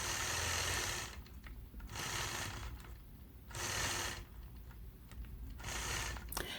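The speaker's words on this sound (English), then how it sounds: "I'll start it out by stitching the ditch around the outside and then stitch 3 of those evenly spaced" Sewing machine stitching evenly spaced lines on a quilt block, running in about four steady buzzing bursts with brief pauses between them, close and with no talking.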